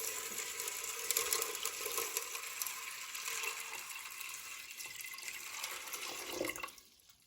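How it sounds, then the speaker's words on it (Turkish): Tap water pours steadily into an old-style pressure cooker for several seconds, a continuous hissing splash that cuts off abruptly near the end. "Sonrasında üzerine geçecek kadar arkadaşlar musluk suyu ilave ediyoruz."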